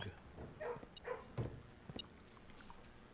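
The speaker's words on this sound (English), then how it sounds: "I'm gonna pet the dog. Pet the dog." A dog being petted in the video game Blue Prince gives a few faint, quiet whimpers and soft yips, short scattered sounds over a low background.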